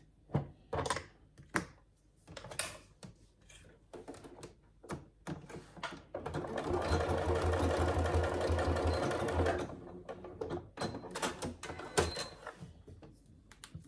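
A sewing machine baste-stitches a quarter inch from the short edges of a fabric strap tab for a wash bag, with scattered clicks and handling taps around one sustained run of close, steady stitching in the middle.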